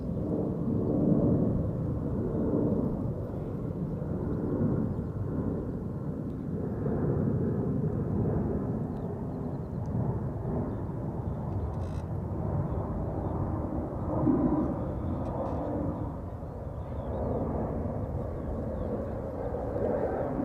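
A Suparna Airlines airliner at Amsterdam Schiphol Airport, turning after takeoff: a steady, low jet-engine rumble carries on throughout, moderately loud and somewhat distant, with no talk over it.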